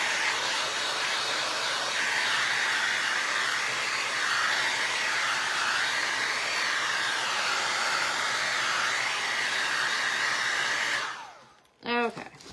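A hair dryer blows steadily and loudly to dry tacky stone-effect craft paint on a repurposed vinyl record, a continuous whooshing rush that cuts off near the end with a brief click.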